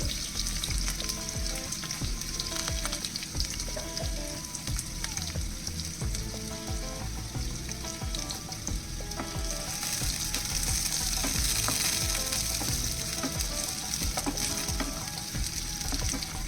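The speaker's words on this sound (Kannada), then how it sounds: "ಈಗ ಈರುಳ್ಳಿ ಚೆನ್ನಾಗಿ ಫ್ರೈ ಮಾಡ್ಕೋಬೇಕು." Chopped onions, green chillies and curry leaves fry in hot oil for kanda poha, giving a steady close sizzle with occasional stirring scrapes, backed by soft music.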